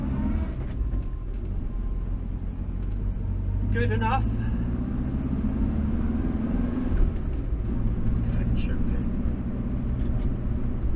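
A 1962 Morris Minor car driving on a test ride, its low engine drone and road rumble steady from inside the cabin, with someone talking over it.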